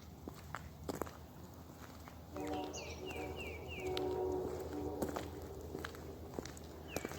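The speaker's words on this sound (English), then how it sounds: "That sounds like an Amtrak to me." Amtrak train passing in the distance near an abandoned state hospital, faint horn-like tones and a low rumble under nearby footsteps crunching on the ground.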